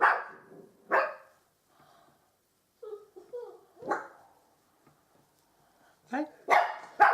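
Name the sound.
puppy barking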